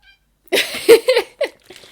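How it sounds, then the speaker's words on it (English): A cat meows several times in quick succession, fairly close, short mewing calls with brief pauses between them. "Why are you meowing at me?"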